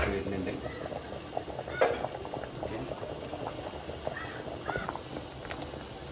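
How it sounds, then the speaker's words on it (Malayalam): Chicken curry boiling in a pot, a steady bubbling and popping heard up close with a clink of cookware near the start and a few faint voices in the background. "ചിക്കൻ കറി ഇവിടെ നന്നായിട്ട് തിളച്ച് നല്ല സ്മെല്ലും കാര്യമൊക്കെ വരുന്നുണ്ട്"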